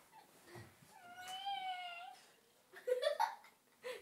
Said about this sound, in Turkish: Kedi kapıda.